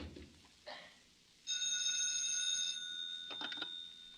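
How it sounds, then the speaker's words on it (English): Old-time telephone bell ringing in a radio drama, a single sustained electric ring of about a second followed by faint rustling and a soft clack, heard alone without talk. "Mikhail, you shouldn't phone me"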